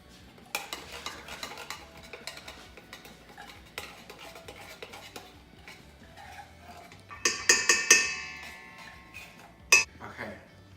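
Food being mixed in a bowl, a run of quick clinking spoon taps and scrapes against the dish, then a louder cluster of knocks and rattles near the end, with occasional voices nearby.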